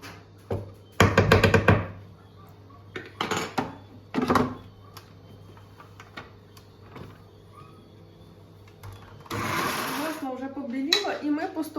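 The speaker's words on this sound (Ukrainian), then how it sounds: "масло будемо збивати, поки воно не побіліє, не стане білого кольору" An electric mixer beating butter for a nut sponge cake, whirring in several short bursts with clatter between, then a longer steady run near the end.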